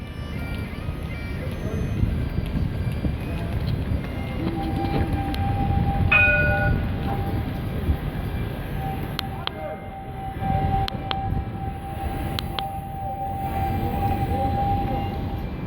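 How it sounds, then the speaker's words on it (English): Steady rumble of a train idling at Edinburgh Waverley station, with a sustained horn-like tone and occasional clanks, no speech. "I'm waiting for the train to be ready to be boarded at Edinburgh Waverley."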